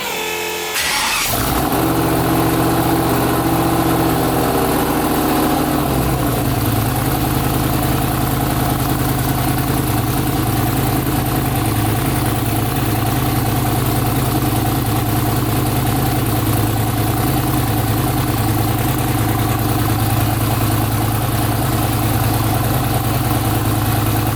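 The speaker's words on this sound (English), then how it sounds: "I'm going to start the car and show you that the alternator is not charging." A car engine cranks briefly and catches, then settles into a steady, loud idle that runs on alone with a low, even drone, on a car whose alternator is not charging.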